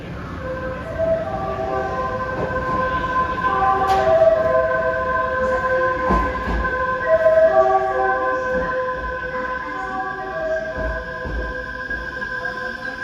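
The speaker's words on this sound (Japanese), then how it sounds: "団体専用列車の到着です。" An Odakyu VSE 50000 series group charter train pulls into Shinjuku Station, its rumble and rolling wheels filling the platform with steady tonal hums, a loud clunk midway and rising mechanical noise, while platform announcement tones sound continuously over the din.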